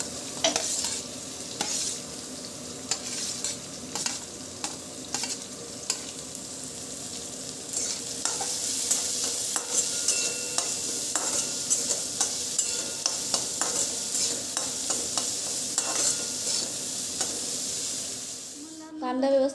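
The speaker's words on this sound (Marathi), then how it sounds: "त्यानंतर आपण यामध्ये बारीक चिरलेला कांदा घालायचा आहे आणि तो छान गोल्डन होईपर्यंत" Finely chopped onion fries in hot oil with curry leaves, a steady sizzle and hiss running throughout with repeated scraping clicks of a spoon stirring the pan, close and continuous.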